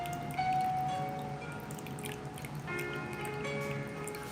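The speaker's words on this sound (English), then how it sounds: "Was the water noise too loud?" Water drips and trickles steadily nearby, a faint liquid patter with a few ringing tones underneath.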